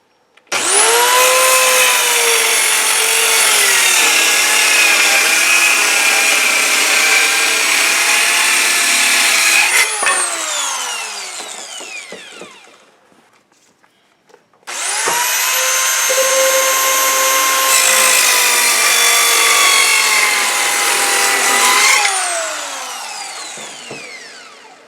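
A Rockwell 4 1/2 inch compact circular saw rip-cuts through wood in two long, loud, steady whining cuts, each winding down before a short pause between them, with no talk.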